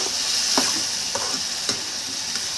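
Okra curry mixture for bendakaya pulusu, stirred in a hot kadai: a constant bright sizzle broken by several rhythmic spoon scrapes roughly every half second, close and loud with no speech.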